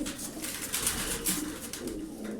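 Smoky tumbler pigeons coo steadily, several soft overlapping calls in a low continuous murmur close by, with no voices.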